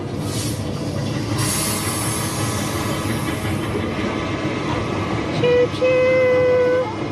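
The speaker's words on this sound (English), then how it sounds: "It's a train. Can you hear it?" A locomotive rolls past, as in The Polar Express, in a steady loud rumble of wheels and rail noise, with a sustained whistle tone sounding near the end.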